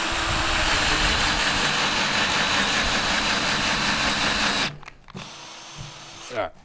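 A power drill roughs out a square hole in wood, running loud and continuous for several seconds before stopping abruptly, followed by quieter handling noises and talk.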